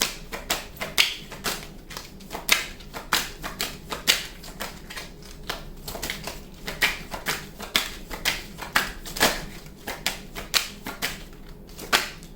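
Tarot cards being handled at close range, a rapid, regular series of crisp taps and flicks as the cards are shuffled and drawn, continuing steadily throughout.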